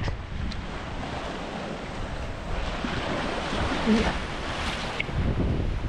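Sea waves washing onto the shore at Infanta, a steady broadband surf roar mixed with gusting wind buffeting the microphone, continuous and moderately loud with no clear voices.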